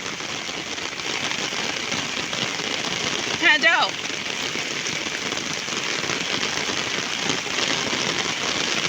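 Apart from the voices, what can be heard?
heavy rain falling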